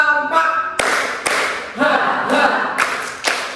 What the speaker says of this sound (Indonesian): Tepuk 1, tepuk 1, tepuk 1, tepuk 2